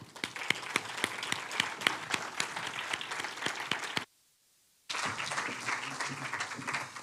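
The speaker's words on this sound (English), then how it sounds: "Please give them a big round of applause." Audience applause at a digital culture awards ceremony, many hands clapping in a sharp rhythm, breaking off into a brief silence before resuming just as steadily.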